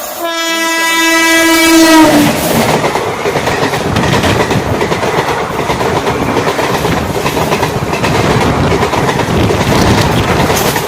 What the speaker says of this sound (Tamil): பாலக்காடு டவுன் திருச்சிராப்பள்ளி எக்ஸ்பிரஸ் வந்துட்டு இருக்குது